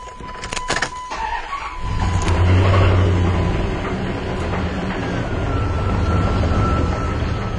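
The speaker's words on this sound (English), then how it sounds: "here a little bit of knocking with the startup" A car engine with low oil pressure cranks briefly and then starts, settling into a loud, steady running sound close by. A slight knock is present at startup.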